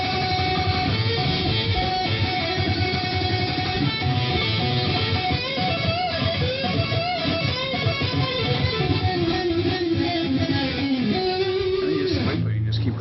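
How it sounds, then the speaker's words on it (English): An isolated electric guitar solo played alone without the band, a dense, continuous stream of fast, bright distorted lead notes that stays loud throughout. "That's what the solo sounds like, soloed out."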